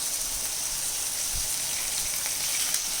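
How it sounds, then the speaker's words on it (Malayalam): Fish frying in a pan with masala coating and covered with a mesh lid, giving a steady, even sizzle throughout with a few soft crackles and no voices. "ഈ നെറ്റ് കൊണ്ട് അടച്ചു വെച്ചിട്ട് നമുക്ക് മീൻ വറുത്തെടുക്കാം"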